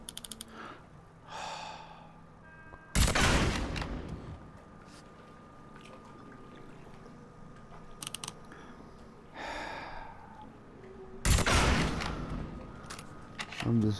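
Bursts of gunfire from the video game Mafia III, two loud clusters of sharp shots separated by quieter stretches of breathing and faint mechanical game sounds.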